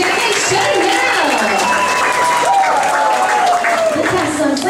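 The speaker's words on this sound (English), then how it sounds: "can I get a nice big round of applause for Brig Captain Bridget?" Loud, continuous audience applause at a ship-themed show, mixed with cheering voices and whistle-like tones that keep the crowd noise thick and busy throughout.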